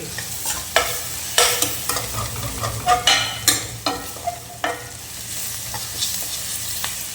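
Curry leaves fry in hot oil for a chicken gravy, giving a steady sizzle broken by frequent sharp crackles and pops, close and clear with no talking.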